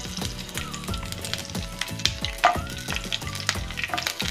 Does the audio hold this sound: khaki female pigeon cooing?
no